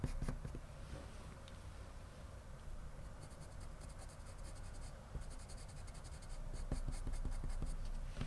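Colored pencil strokes scratch on paper as a cat's eye is drawn in walnut brown with heavy pressure, close and soft, with rapid rhythmic bursts of strokes and no talk.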